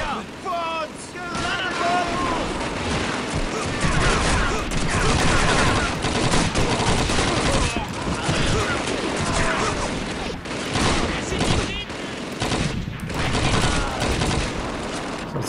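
Dense, loud gunfire and machine-gun bursts from a Call of Duty 2 World War II battle, near-continuous volleys over engine-like rumble, with voices shouting underneath throughout.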